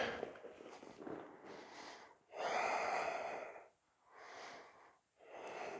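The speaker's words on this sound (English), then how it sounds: "Keep breathing." Slow, deep breaths come in and out during a yoga pose in a vinyasa flow session, with long audible inhales and exhales separated by brief pauses, close and fairly soft.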